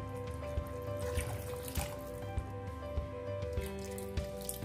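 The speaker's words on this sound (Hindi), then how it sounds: "मैं यहाँ पे लगभग 2 से 3 कप पानी मिला रही हूँ।" Water is poured into a pot of South Indian tomato rasam, a steady close trickle with small splashes and intermittent soft knocks underneath.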